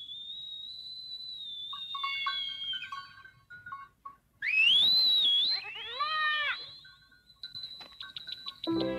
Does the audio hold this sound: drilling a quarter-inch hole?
no